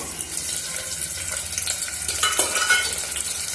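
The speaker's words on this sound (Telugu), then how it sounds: "ఉల్లిపాయ ముక్కలు బాగా ఎర్రగా వేయేంత వరకు వేయించుకున్నాము" Onion and green chilli pieces fry with spices in a pan for alu kurma, making a continuous close sizzle with some bursts of stirring and a brief, louder crackle partway through.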